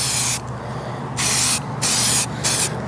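Spray paint hissing in four or five loud bursts onto the back box of a Land Rover Freelander 2, each short blast separated by brief pauses, close and steady.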